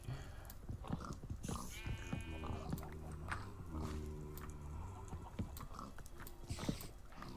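Minecraft sheep, modded with Better Than Wolves, bleating in repeated wavering calls among other farm animals, quiet and overlapping with clip-clop-like thumps, no speech.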